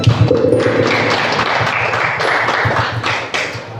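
An audience at a school seminar applauds, a dense, steady wash of clapping lasting several seconds at close range, with a few louder individual claps and thumps standing out.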